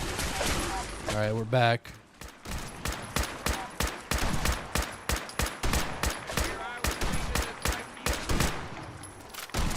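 Gunshots from a weapon in Fallout 4 (GOTY Edition) crack out in a steady, evenly spaced series of loud sharp bursts for several seconds, after someone speaks briefly at the start.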